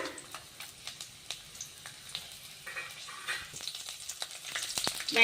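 Fenugreek seeds and Byadgi red chillies fry in hot oil for a rice dish, a close crackling sizzle with scattered pops and spits that grows busier and louder toward the end.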